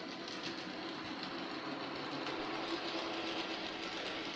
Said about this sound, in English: you really need to see my train go around my bit of track again